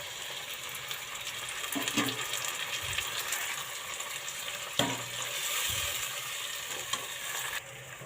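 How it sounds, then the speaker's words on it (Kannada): Curry leaves and ground masala frying with onion in a pan for a chickpea gravy: an even, moderately loud sizzle with occasional scraping stir strokes and a few sharp clinks, no voices. "ಸ್ವಲ್ಪ ಕರ್ಬೇವಿನ ಸೊಪ್ಪು ಫ್ರೈ ಮಾಡ್ಕೋಬೇಕು"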